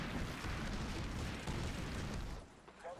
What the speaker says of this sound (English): I'm going to hit that Blackhawk with this missile